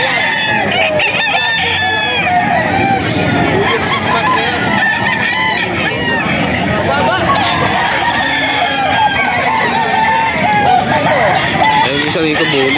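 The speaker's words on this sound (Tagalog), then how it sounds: "mga manok ni Kap Totoy Vivo" Farm chickens and roosters, including White Kelso fowl, crowing loudly and repeatedly over a busy backdrop of clucking hens, with overlapping calls from several birds close by.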